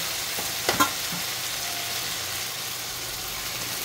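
Shrimp paste (alamang) sizzles steadily in a pan with softened garlic, onion and tomato, a continuous close frying hiss broken early by a couple of brief scraping stirs.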